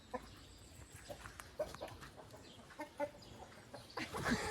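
Hens in a backyard flock cluck in scattered, irregular bursts, moderately close, building to a louder, busier flurry of clucking in the final half second.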